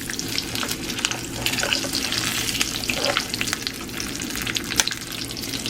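Breaded cordon bleu schnitzel fries in oil in a pan with a loud, continuous sizzle and crackle, plus occasional pops and clinks close by.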